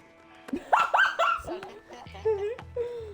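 A dog in the video game A Way Out barks and yips in several short, excited bursts with a few whimpers, close and clear, while people talk alongside.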